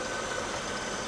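A 2010 Mercedes-Benz W221 S500L with a naturally aspirated engine and 190,000 km idles steadily, giving a continuous even hum with no talk over it.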